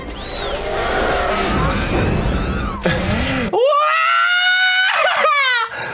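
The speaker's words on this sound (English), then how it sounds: "That wild ass scream, we've never heard that before." A loud, wild scream from Star Wars: Revenge of the Sith, raw and sustained over a dense movie soundtrack, then rising into a high, clear wailing cry that holds for several seconds before breaking off.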